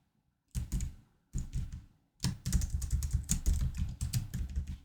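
Keys tapped on a computer keyboard, two short bursts of typing followed by a longer run of quick, close clicks, quiet and alone.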